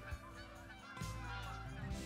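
A flock of Canada geese honks overhead in an open hunting field, with overlapping calls from many birds, fairly distant and continuous under light wind noise.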